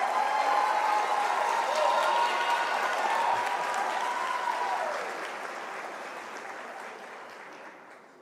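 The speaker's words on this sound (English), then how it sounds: "Graduates, can you please give yourselves a great round of applause for a job well done?" Graduates at a University of South Africa autumn graduation ceremony give a big round of applause, dense steady clapping from a large crowd that gradually thins and fades toward the end.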